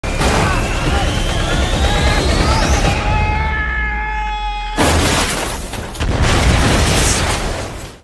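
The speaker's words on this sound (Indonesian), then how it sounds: "Setelah bom meledak dari salah seorang tubuh teroris" A bomb explodes in a film scene: the blast lands around the three-second mark, followed by a ringing tonal hum, then a fresh burst of loud, crashing noise as debris settles.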